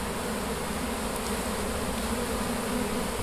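Swarm of honey bees buzzing steadily at the SGGW university apiary, a dense continuous drone close by with no talk over it.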